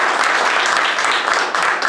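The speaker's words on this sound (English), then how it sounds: "Round of applause." A workshop audience at a corporate storytelling session gives a loud, dense round of applause, steady clapping filling the room for the whole stretch without a break.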